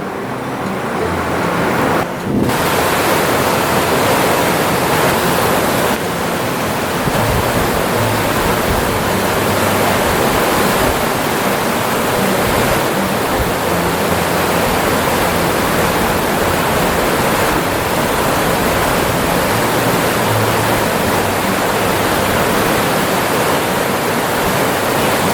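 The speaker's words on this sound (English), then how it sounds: "it's too loud at the river" A loud river rushes steadily alongside wild roses, a dense, unbroken roar of water that fills the whole stretch with no voices over it.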